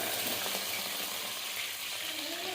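Butter melting in a pan for street-style pav bhaji gives a soft, steady sizzle that stays close and even for the whole short stretch, with no voices over it.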